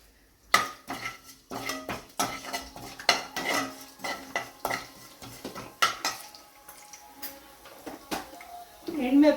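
Urad dal, cumin and mustard seeds frying for a tempering, a light sizzle beneath repeated sharp clinks and scrapes of a metal spoon against the pan, with talk over it.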